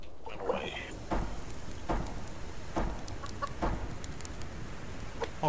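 A chicken in the survival video game Subsistence clucks in short, scattered bursts, close and moderately loud, over a rough, steady game backdrop with light tapping.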